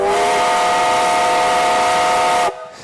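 Steam whistle on a steam-powered motorcycle sounds one loud, sustained, steady blast with a breathy hiss underneath, cutting off sharply into quieter hiss.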